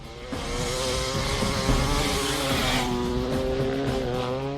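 A motorcycle races at high speed toward a body of water for a water-skiing stunt, its engine roaring loud and steady with a rising, sustained whine and rushing noise throughout.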